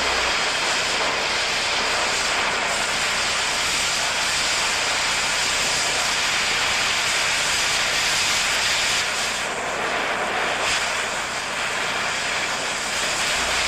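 An oxyacetylene torch cuts through steel at a T-joint weld, a loud continuous roaring hiss of the cutting jet that holds steady throughout.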